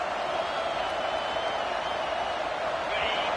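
A stadium crowd at a college football game makes a loud, continuous roar and cheer, steady and distant-sounding, with a commentator's voice faintly under it.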